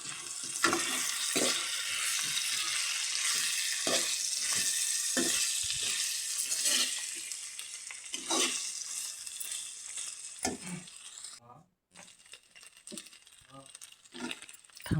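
Vegetables sizzle steadily in a hot pan, with a loud, continuous frying hiss broken by repeated scraping stirs of a spatula, and a short quiet gap near the end.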